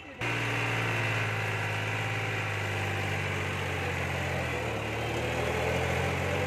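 A Ford 3630 tractor's diesel engine runs steadily at 2200 RPM, a loud continuous low drone starting abruptly and holding even throughout, with slight pitch shift near the end.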